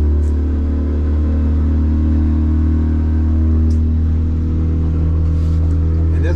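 A Hewescraft boat with an F150 outboard motor at full throttle on the water, giving a loud, steady low engine drone that holds constant throughout.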